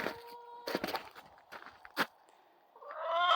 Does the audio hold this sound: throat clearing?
no